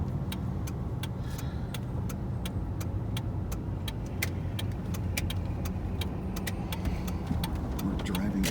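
A car driving along a road, a constant loud rumble of road and engine noise with light rattling ticks throughout, from inside the vehicle.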